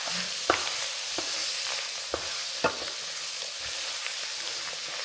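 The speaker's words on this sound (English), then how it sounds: "I gotta saute these veggies in that roux for a few minutes." Vegetables stirred and sautéing in a dark roux for a Louisiana dish, with a steady low sizzle and a few sharp spoon scrapes and clacks against the pot, close and alone without talk.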